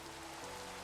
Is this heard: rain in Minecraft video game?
yes